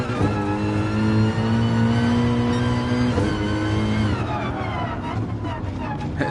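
An ambulance siren wails in the Gran Turismo VR racing game, a steady high-pitched siren tone layered over a constant car engine drone, with faint talk in the background.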